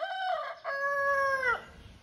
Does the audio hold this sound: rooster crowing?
yes